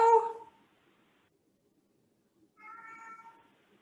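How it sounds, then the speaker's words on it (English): House cat meowing indoors, two separate meows with a quiet pause between, the first louder and sharper, the second softer and slightly drawn out. "We have a cat in the house."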